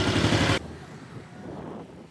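A motorcycle engine idles before an oil change, with a loud, dense roar for about half a second that cuts off abruptly, leaving a quieter, low rumbling tail.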